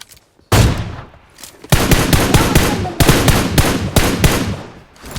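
Gunfire in the mobile battle game PUBG Mobile during a sniper fight: loud, close bursts of rapid shots, several separate volleys one after another with short gaps, no talk.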